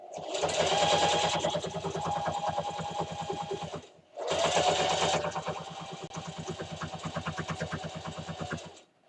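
Sewing machine stitching a quilted pot holder, two loud bursts of rapid, even needle chatter separated by a brief pause near the middle, close by with no talk over it.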